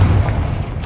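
A Confringo fire spell blasting in Hogwarts Legacy, a short booming burst with low rumble that ends in a bright crackling hit, loud and close.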